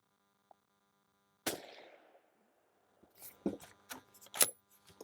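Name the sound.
suppressed Federal 7mm rifle shots, 3-shot group at 100 yards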